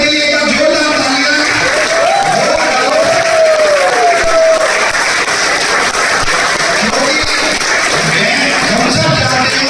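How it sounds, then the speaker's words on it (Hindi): Audience in a hall applauding as women are asked to stand, a loud, dense, steady wash of clapping and crowd noise that lasts throughout, with a thin whistle-like tone rising briefly through the middle. "मैं चाहूंगा इनके लिए एक बार जोरदार तालियां।"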